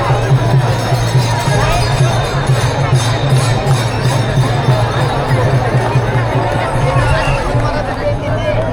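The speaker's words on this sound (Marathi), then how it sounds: "इथे आलो गाईज, गर्दी बघा किती आहे पाठीमागे." Dense crowd hubbub fills the Pandharpur ringan ground, a steady wash of overlapping chatter and movement from many people, loud and continuous with a low hum running underneath.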